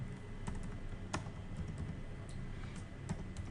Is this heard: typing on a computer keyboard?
yes